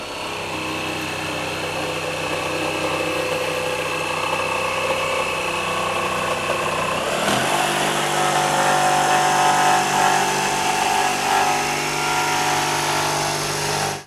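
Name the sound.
RIDGID 18V sub compact barrel grip jig saw cutting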